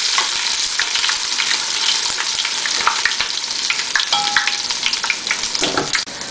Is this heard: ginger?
yes